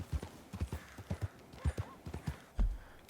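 Horse hooves in Red Dead Redemption II beat out a quick, uneven clip-clop, closely spaced strikes ending in a heavier thud, with a faint snort.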